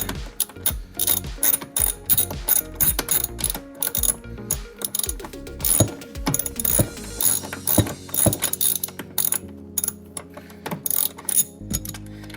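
Ratchet wrench with a 14mm socket loosening a seat bolt inside a 2007-2011 Toyota Camry, rapid close clicking in repeated bursts with short pauses, loud and alone.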